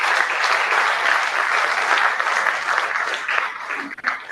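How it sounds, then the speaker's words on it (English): Sustained audience applause at the CSD 2024 awards ceremony as presenters take the stage, a dense even roar of clapping that tapers slightly near the end. "And your round of applause, ladies and gentlemen."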